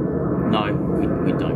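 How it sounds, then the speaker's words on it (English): A plane passes overhead at an outdoor archaeological dig, heard as a steady low engine drone beneath people talking. "Sorry, that's a plane."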